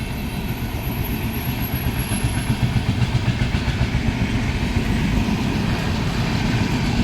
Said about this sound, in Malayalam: ഒരു ട്രെയിൻ പോകുന്നുണ്ട്.